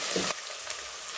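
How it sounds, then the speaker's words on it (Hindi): Chicken frying in a pan for a chicken vegetable macaroni: a loud, steady sizzling hiss that drops to a softer, continuous frying crackle partway through, with no voices. "ये देखिए, 3 से 4 मिनट में चिकन जो है वो फ्राई हो चुकी है।"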